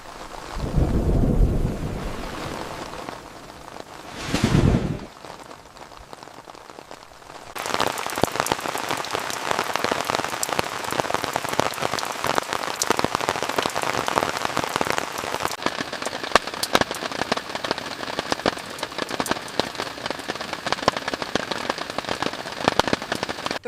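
Heavy rain pours down at a campsite, a dense steady hiss of drops drumming on surfaces after a few quieter seconds, with a brief louder burst early on and a low rumble like distant thunder.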